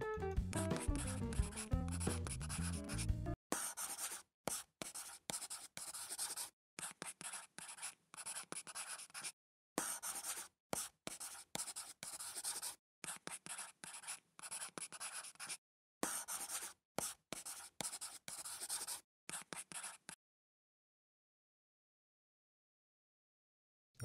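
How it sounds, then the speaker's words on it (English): Pencils scratching on paper during a classroom test, many short bursts of writing separated by brief silences, close and dry, after a short musical opening and ending in silence. "Okay, everybody, pencils ready. You may begin."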